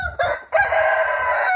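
Preselected fighting roosters crow loudly and close up from a 75x75 cage, one short call breaking off before a longer sustained crow.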